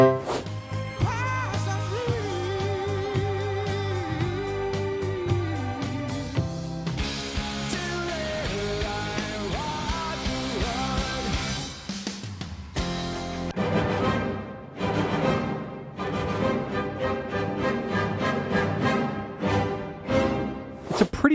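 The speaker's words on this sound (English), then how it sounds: "What you're hearing is the 3rd and the 7th of that dominant chord" Full band music with sustained chords and melodic lines, a dominant harmony moving to its resolution on the home chord, no talking.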